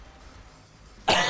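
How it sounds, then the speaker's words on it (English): One sharp, loud cough from a nearby man bursts in at the very end after a quiet stretch. "sorry about that cough"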